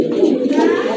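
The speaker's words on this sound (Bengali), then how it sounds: "নরে কিন্তু অনেক ভালো ডাকে, একা একাই ডাকতেছে" A male pigeon coos steadily and close by, a continuous rolling throaty call with no other voices over it.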